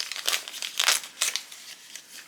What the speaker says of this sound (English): So start pulling the paper off.